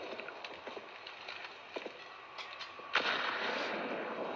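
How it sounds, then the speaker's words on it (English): Pistol gunfire in Counter-Strike: Global Offensive during a ViCi versus Grayhound esports match, several sharp shots scattered across the clip, then a louder burst of sustained game noise near the end, with no talking. "Just a handful of pistols here and there."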